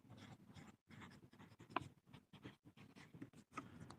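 A marker scratches across a board during a physics lesson in steady, rhythmic strokes with brief gaps, close and fairly quiet.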